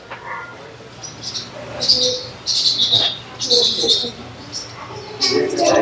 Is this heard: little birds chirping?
yes